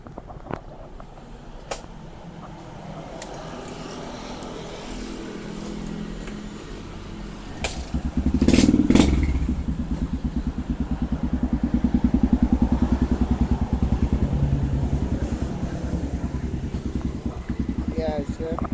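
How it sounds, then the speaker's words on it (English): A Kawasaki KSR 110 motorcycle fitted with an FMF Powercore 4 full exhaust system and no spark arrestor idles close by with a steady low putter, then revs briefly and settles back to a throbbing idle, with a voice speaking over it. "Today I'm gonna make a sound test video of my FMF Powercore 4 full system fitted in my Kawaski KSR 110."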